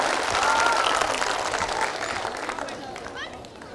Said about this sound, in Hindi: मैं चाहता हूं एक बार सभी फौजी भाई दोनों हाथ उठाकर आदरणीय सुरेश चौहान के जी के सम्मान में तालियां बजाएं।